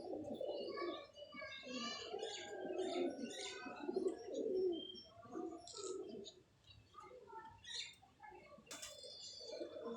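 Pigeons at a pigeon club coo steadily in low, throaty rolls, with sharper chirps from other birds above them and a short burst of wing flapping near the end.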